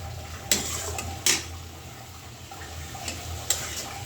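Potatoes and raw tomatoes with spices being stir-fried in a pan, with a faint low sizzle beneath several sharp metallic scrapes and clinks of a spatula against the pan.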